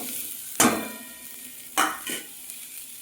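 Finely chopped onion frying in oil for a paneer masala, with a few sharp stirring clatters and bursts of sizzle over a steady low frying hiss, close and fairly loud.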